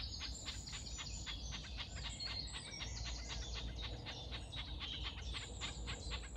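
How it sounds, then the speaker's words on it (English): Two garden warblers scrap in Hembury woods during the May dawn chorus, a rapid run of high, scratchy chirps and chatter repeating steadily, faint and somewhat distant, with other birds calling in the background. "it's probably more likely that there's two garden warblers having a bit of a scrap."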